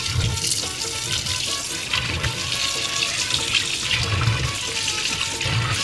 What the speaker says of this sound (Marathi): ही मी आता डायरेक्टली असं पाण्यातून वॉश करून